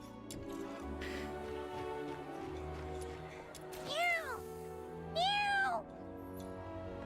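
Two rising-and-falling cat meows in a video game, the second longer, over a steady background of game music and ambient hum.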